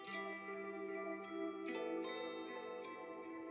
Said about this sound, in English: I'm filtering to the end of the sample with a new guitar that sounds like this.